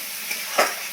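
Fried tangra fish being sautéed in a kadai, a continuous close sizzle with a brief stirring clatter midway, no voices.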